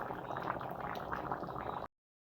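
Cracked wheat dish simmering in a pot, with a close, steady bubbling and gurgling that runs for about two seconds and then cuts off abruptly.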